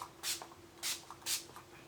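Setting spray mists onto a face over powder makeup in three short hissing bursts, soft and close, spaced evenly with quiet gaps between.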